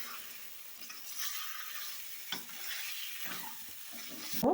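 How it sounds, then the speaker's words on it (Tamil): Soft sizzling and frying with occasional stirring scrapes, a quiet steady crackle of chicken cooking in masala in a pan. "நல்லா ஒரு 5 நிமிஷம் வதக்கலாம்"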